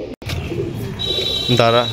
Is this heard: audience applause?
no